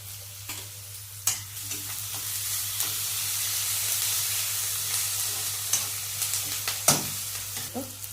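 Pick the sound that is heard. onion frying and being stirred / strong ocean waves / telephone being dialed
onion frying and being stirred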